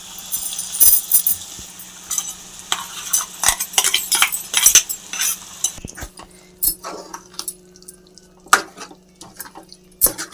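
Thick gongura paste is poured into cooked chicken curry and stirred with a spoon, giving wet scraping, clinks against the pot and soft splats in irregular bursts, close and alone without speech.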